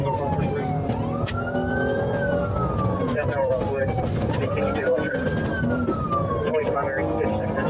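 A state trooper's police siren wails in slow rising and falling sweeps, loud and close, over the rumble of a vehicle engine during a pursuit.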